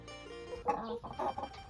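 Hens in a poultry yard give a few close, soft clucks in short bursts over faint background noise.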